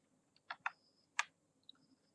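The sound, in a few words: typing on computer keyboard, pressing Alt and F5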